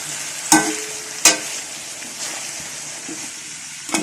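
Crushed coriander and red chilli fry in hot oil with a steady sizzle, broken by a few sharp stirring clanks from a spoon against the pan.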